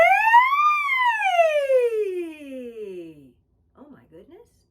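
A voice imitates a siren, sweeping up then gliding smoothly down in a long falling whoop, followed by a brief quieter vocal murmur.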